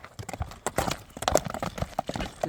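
A horse's hooves clip-clop in a quick irregular rhythm of sharp, close, moderately loud knocks, with faint voices in the background.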